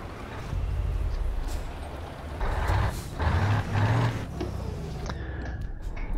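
Heavy truck engine with American-style exhaust pipes in a truck driving video game, a steady low rumble with short swells and a faint hiss at the end, no voices.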